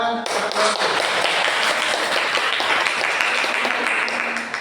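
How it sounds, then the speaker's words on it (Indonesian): Steady burst of group clapping from a classroom audience, dense and sustained for several seconds at close range, fading slightly at the end. "Tepuk tangan"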